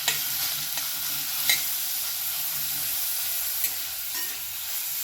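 Grated carrot sautéed in a kadhai for carrot kheer, a steady sizzle with the occasional scrape and tap of a stirring spoon, close and continuous, no one speaking.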